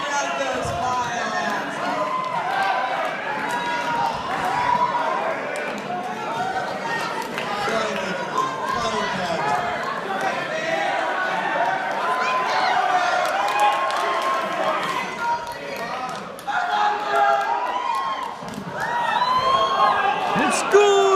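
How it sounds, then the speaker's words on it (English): A large crowd at a pony fan convention in New York cheers, whoops and chatters continuously, a lively dense roar with scattered high shouts rising and falling over the whole stretch. "And the crowd goes wild."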